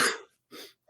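A single sharp sneeze burst up close, followed by a couple of short breathy aftersounds.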